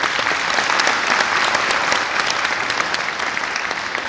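A crowd at a motivational talk gives loud, steady applause, dense and sustained clapping filling the whole stretch without a break.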